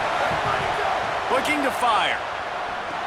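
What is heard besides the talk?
stadium crowd noise in video game EA Sports College Football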